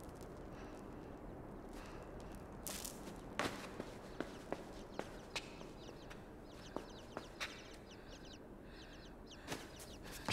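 Small birds chirp and cheep faintly in the background of the game Inside, mixed with soft footsteps and a few sharp clicks over steady ambient noise.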